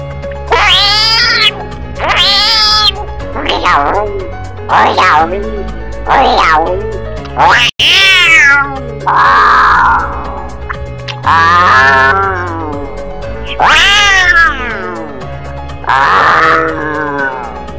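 A human voice imitates a kitten meowing: a string of loud, drawn-out, wailing mews, about a dozen in a row separated by short pauses, close to the listener.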